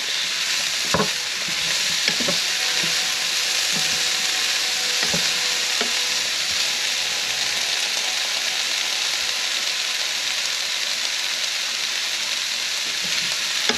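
Garlic and vegetables stir-frying in a pan for beef lo mein, a steady loud sizzle running throughout with scattered clinks and scrapes of a utensil stirring, no voices.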